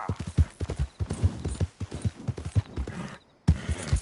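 Horse hooves clip-clopping at a gallop in the video game Red Dead Redemption 2, a fast, loud, steady rhythmic beat of hoof strikes that drops out briefly near the end before resuming.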